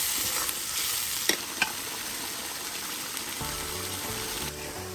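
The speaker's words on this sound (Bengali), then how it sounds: "অল্প একটু নারকেল দুধ দিয়ে ভালো করে মশলাগুলো কষিয়ে নেব" Spices cook in a pan with a little coconut milk, alongside whole onions, garlic and green chilies, giving a steady sizzle and frying hiss. A few clinks of a stirring utensil are heard close up.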